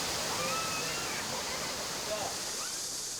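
A clear mountain valley stream runs through Daecheoncheon valley in Busan over a series of small waterfalls, making a steady, even rush of water that fills the whole clip.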